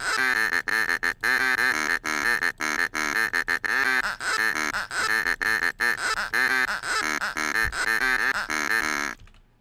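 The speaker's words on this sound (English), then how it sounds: "It's a duck noise." Duck quacking in a video game, a long rapid run of loud, close, nasal quacks with tiny gaps between them, cutting off abruptly at the end.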